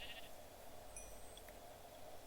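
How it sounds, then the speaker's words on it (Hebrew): A sheep bleats in the video game Minecraft: a short, faint, thin bleat over a low background hum, with no talking. "עכשיו הייתה פה כבשה, ואני אהרוג אותה כדי להכין מיטה"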